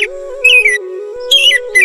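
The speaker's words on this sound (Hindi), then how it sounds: "उसी समय वहाँ पर कुछ पक्षियों की आवाज सुनाई देती" Birds calling, short bright chirping whistles in three brief bursts over a steady tonal hum, fairly close and clear.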